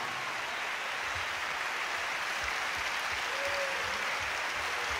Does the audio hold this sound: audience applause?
yes